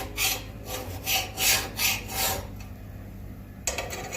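A hand file rasps across a steel lawn mower blade in a run of steady, rhythmic strokes, close and fairly loud, then the strokes stop and the file scrapes briefly again.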